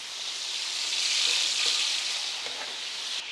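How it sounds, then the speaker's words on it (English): Chicken sizzling and crackling in a hot frying pan, a steady frying hiss that swells slightly and settles, with no voices. "All right, so that's sizzling nicely."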